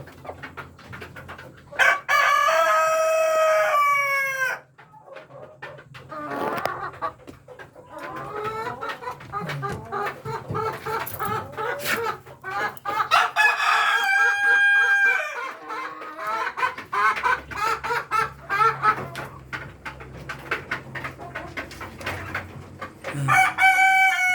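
Egg-laying breeder hens on a farm, one weighing about 4.2 kilos, cluck and call repeatedly, with several loud rooster-like crows close by, over a low background rumble.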